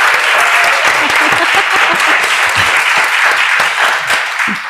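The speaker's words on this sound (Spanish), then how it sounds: "si queréis aplaudir, podéis aplaudir" Loud, close applause from an audience welcoming an illustrator and a film director at a talk, dense steady clapping that runs for several seconds before easing slightly, with scattered voices and cheers mixed in.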